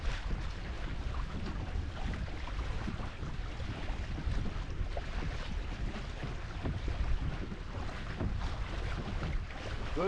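Pedal boat cruising across lagoon water, a continuous rushing wash of water with wind buffeting, steady and close throughout without talk.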